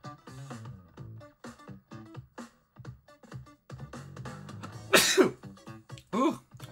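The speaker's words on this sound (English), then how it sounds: "Ooh, I'm sneezing, y'all." A streamer sneezes during a relaxed Marvel Contest of Champions hangout, a sharp loud burst near the mic after a stretch of ongoing talk, followed by a second smaller burst.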